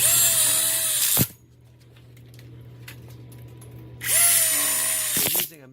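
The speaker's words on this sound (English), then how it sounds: "We're using a Milwaukee impact drill" A Milwaukee impact drill drives screws into the frame of an outdoor kitchen grill module in two loud, high-pitched whirring bursts, each just over a second long, separated by a quiet pause.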